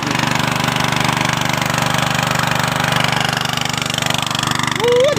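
Engine-driven water pump drawing water from a pond, a loud steady low chugging drone with a fast regular pulse that runs without pause, close by.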